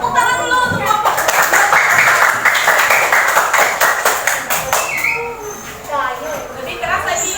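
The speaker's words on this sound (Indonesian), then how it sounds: "Tepuk tangan dulu untuk kelompok 2." A classroom of students clapping for a group about to present, brisk and fairly loud rhythmic hand claps that fade after several seconds into a teacher's talking.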